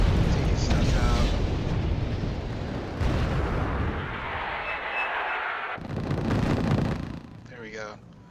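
Bombs burst in the war strategy game Wargame: Red Dragon, loud rumbling explosions rolling out in several heavy waves with wind-like roar between them, while someone talks over parts of it.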